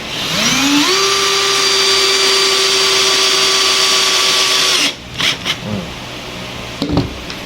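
An electric drill spins up with a rising whine and runs at a steady pitch for several seconds, then stops, followed by a few clicks and knocks.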